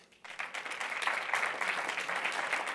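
An audience at Temple Israel applauds during a debate on Israel. The clapping swells quickly from quiet to a steady, moderately distant wash and holds to the end.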